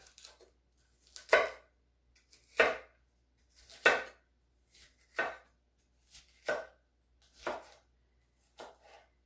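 A knife chopping a large pepper into pieces on a cutting board, eight sharp, evenly spaced cuts about one per second, close and clear in an otherwise quiet kitchen.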